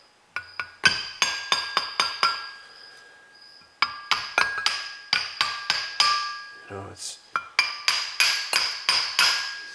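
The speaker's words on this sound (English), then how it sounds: "Shouldn't be using the hammer, but now it's really crooked." Hammer blows strike a seized brake caliper on a P30 motorhome chassis, a long run of sharp metallic clanks in quick irregular bursts with a brief pause, close and loud, while someone talks briefly.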